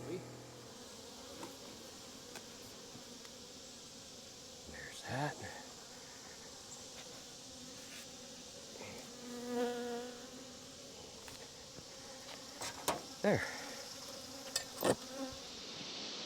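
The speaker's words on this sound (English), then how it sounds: "the bees went nuts in one of the hives down there" Honey bees swarm agitated around the hives, a steady insect buzz close by with a few louder passes darting near, while a voice speaks briefly and quietly over it.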